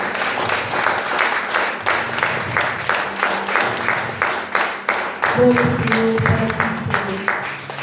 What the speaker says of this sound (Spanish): dale un aplauso porque es para Él